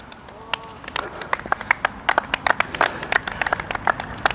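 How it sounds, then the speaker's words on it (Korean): A group of tennis students clap their hands at a tennis academy during a forehand running shot drill, giving a quick run of sharp, uneven claps that pick up partway through, with a coach speaking over them. "박수!"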